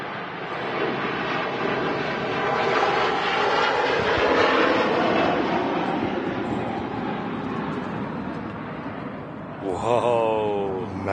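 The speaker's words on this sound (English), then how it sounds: "Hainan A330 on the roll." A Hainan Airlines Airbus A330 rolls for takeoff at Manchester Airport, a broad, roaring jet rumble heard from a distance that swells and holds, with wind buffeting the microphone and a brief whine near the end.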